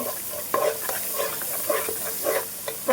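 Chaat masala spice powder frying in a pan for chicken liver noodles, stirred with a spatula: a steady soft sizzle with repeated scraping strokes at an uneven rhythm, close and moderately loud, no talking.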